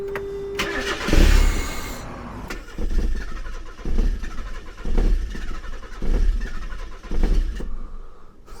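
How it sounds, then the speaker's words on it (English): A Mazda Miata engine cranks and catches with a burst of noise, then settles into an uneven idle with rhythmic pulses repeating every second or so. "So now let's get the engine fired up"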